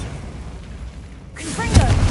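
A Bombarda spell goes off in Hogwarts Legacy on PS5 as a single sudden blast with a low rumble that swells near the end, heard close and fairly loud over a noisy game background.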